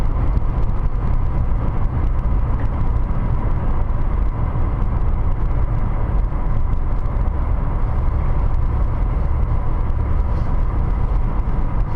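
Heavy snow plow passing on a highway with an 80 speed limit, heard from inside a car doing 70: a loud, steady engine and tire roar filling the whole stretch, close and continuous with no talk.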